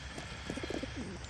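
Racing pigeons give a short run of soft, low cooing notes close by, quiet against a steady background hiss.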